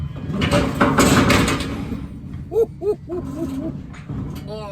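A recycling truck under heavy load gives off drawn-out creaks and groaning squeals, a few rising tonal moans over steady rumbling machinery and clatter, fairly close.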